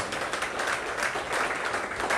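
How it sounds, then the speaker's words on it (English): An audience at a talk claps steadily, a dense and even patter of many hands at moderate distance, with no break throughout. "let's give a big clap to the director and management for sourcing us out"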